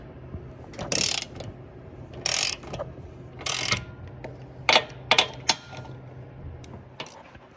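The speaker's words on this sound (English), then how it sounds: "we also have to remove the bolt and the screw from this side" Hand ratchet loosening a bolt on the upper control arm of a 2008-2014 Cadillac CTS, bursts of rapid clicking repeated several times with brief pauses, close and clear, no talking.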